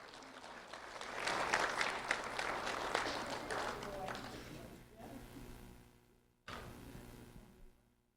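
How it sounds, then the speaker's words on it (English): A school audience applauds a second grade student at an award presentation, a broad wash of clapping that swells, fades briefly, then resumes before tapering off. "a round of applause for Arianna Contreras"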